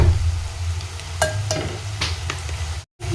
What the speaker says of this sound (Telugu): పసుపు వేసుకొని ఇలా మంచిగా కలుపుకొని ఇది కొంచెం సేపు ఫ్రై అయిన తర్వాత